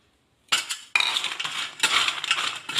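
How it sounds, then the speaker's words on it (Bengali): Crisp fried wheat-flour biscuits are tossed and mixed with fried spice masala, giving close, busy rattling and clinking in two bursts after a brief silence, with no talking. "মশলাটা ভালোভাবে মিশিয়ে নেব।"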